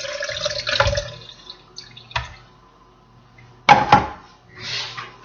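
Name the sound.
pouring strained liquid into a blender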